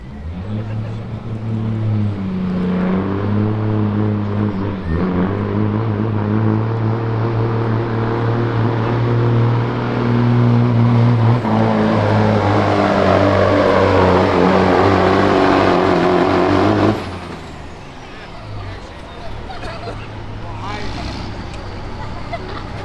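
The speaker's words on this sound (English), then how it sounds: "James Huber backed into the sled now with a 1999 Peterbilt 379 with the ISX coming." A 1999 Peterbilt 379 truck with an ISX engine pulls a sled at a truck pull, its loud, droning engine building in pitch before cutting off sharply near the end, with crowd noise and announcer talk underneath.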